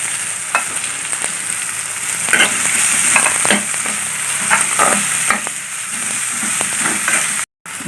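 Green chilli and sliced onion sauté in coconut oil in a pan, giving a constant close sizzle broken by clinking, scraping stirs of a spoon, with no speech.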